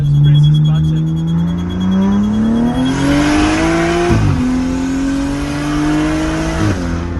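A modified BMW 135i in South Africa, rolling anti-lag engaged, pulls hard under acceleration. Its loud, close engine note climbs steadily, breaks sharply at two gear shifts, then rises again.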